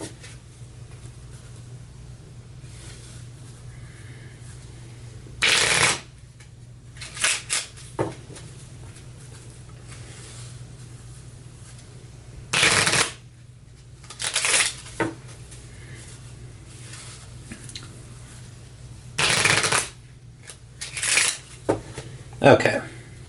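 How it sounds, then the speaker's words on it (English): Cards from the Sentinels of the Multiverse board game are shuffled in several short, crisp riffle bursts separated by quiet pauses, close by over a low background hum. "We'll give this a quick shuffle off camera"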